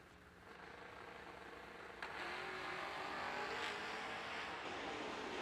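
Drag racing cars, including a Mustang, rev and launch at a drag strip, a distant steady engine roar that swells louder partway through and holds, with no audible talk.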